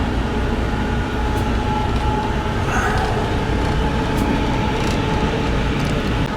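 A freight train rolls along heard from aboard, a loud continuous rumble and rattle of rail cars with faint squeals and clanks over the steady roar.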